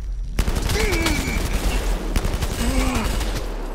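Bursts of gunfire in the VR shooter game Blood & Truth, rattling rapidly for several seconds amid game effects, with players' voices faintly mixed in.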